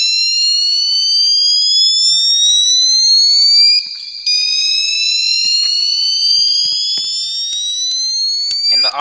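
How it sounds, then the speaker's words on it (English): A high-pitched fire alarm tone in the Roblox video game sounds loud and continuously, sweeping repeatedly upward with only one brief break. "Different tone alarm right here is on high pitch."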